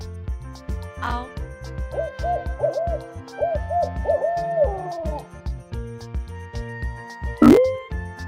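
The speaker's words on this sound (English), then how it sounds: "Owl." Owl hooting over a cheerful children's music track, with a short hoot early and a louder, clearer hoot near the end standing out above the melody.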